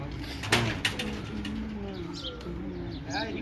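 Pigeons coo close by in soft, repeated low murmuring calls, with a few sharp knocks or wing flutters. A person's voice is also faintly present.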